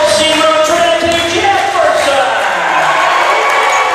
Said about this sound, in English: Big cheer for Trinity Jefferson, who is introduced as a starter.